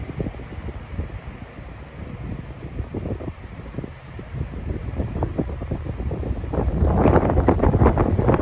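Wind buffeting a microphone trackside along the Port Jefferson Branch, uneven rumbling gusts that grow stronger and louder toward the end.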